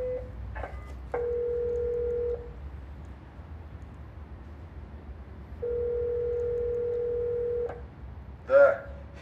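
Telephone line tones during call connection in a Russian film: two long steady beeps separated by a pause, then a short warbling chirp, with faint background under them and no speech.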